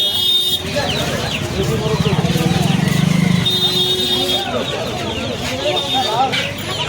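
Desi chickens cluck and squawk among other poultry at a busy hen market in Uluberia, Howrah, with steady crowd noise and nearby voices talking throughout.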